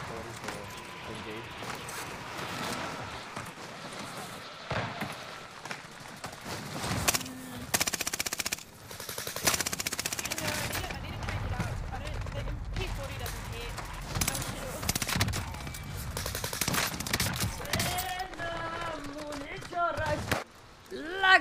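Cooper Carbine fire in the Warzone video game sounds in repeated sharp bursts and rapid volleys, scattered across the stretch, with players talking over much of it.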